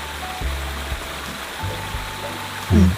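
River water runs steadily at a mountain campsite in Cabangan, Zambales, a continuous close rushing wash with a few low thumps and a brief louder splash near the end.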